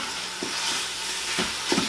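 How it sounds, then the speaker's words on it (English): Ground beef and garlic fry in a pan, a loud steady sizzle with a few soft stirring scrapes, close up and with no voices. "I'm dumping my ground beef in"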